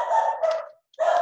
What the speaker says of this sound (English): my dog will stop barking in a second.